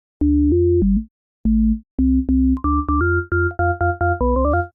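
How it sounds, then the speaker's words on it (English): A synthesized sine-wave tone for a UK garage bass plays a series of short beeps at shifting pitches, with higher harmonic tones stacking on in the later notes, clean and close with brief pauses. "this is how you add in the harmonics to the sine wave"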